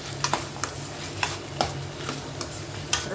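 Chopped capsicum, peas and beans are stirred in a pan over a quiet sizzle, the spoon knocking and scraping the pan about a dozen times in an uneven rhythm, nearby and with no voices.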